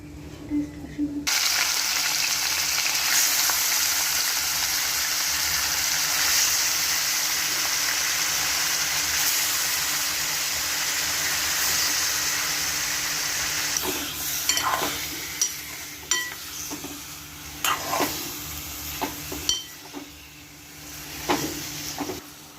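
Star anise, black pepper and cloves sizzle in hot oil as a tempering for chicken soup, a loud, steady crackling hiss that later breaks into sharp pops and stirring clatter.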